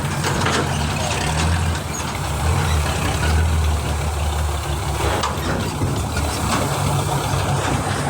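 Truck engine idling before crossing a river, a loud, steady low diesel rumble with slight throbbing and some outdoor noise, heard close up and without speech.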